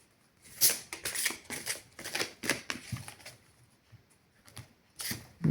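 Tarot cards are shuffled and drawn close up in short, papery bursts of riffling and slapping, with brief pauses between handfuls and a final flurry at the end.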